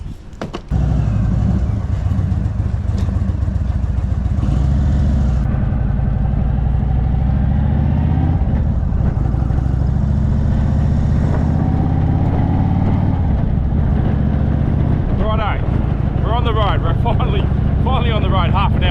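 An Indian motorcycle riding on an Australian road gives a steady low engine drone and rush of travel, with people talking over it.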